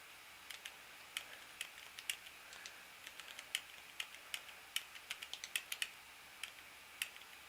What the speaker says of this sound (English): oh, I was typing the